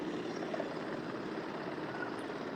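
A Red Cross helicopter passing over a crowd on Swann Street in DC, a steady distant rotor drone with a broad rushing wash, continuous and fairly faint.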